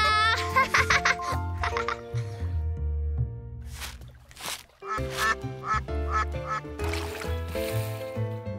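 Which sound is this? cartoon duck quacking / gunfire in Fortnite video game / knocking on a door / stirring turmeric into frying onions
cartoon duck quacking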